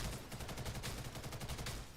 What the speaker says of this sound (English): fire in a long burst until the target is dead